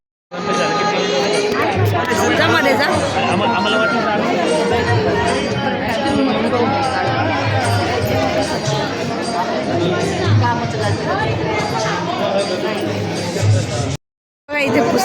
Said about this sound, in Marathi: गर्दी काय जबरदस्त